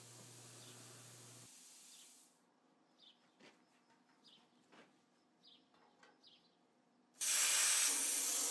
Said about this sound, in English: So when I go through it with the plasma cutter, the hole is the correct size for the sucker rod to fit in there.